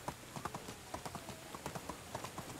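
Donkey hooves clip-clopping in the medieval life-sim game Medieval Dynasty: a steady, brisk run of light hoofbeats at a trotting pace, fairly faint and even, with no talk over them.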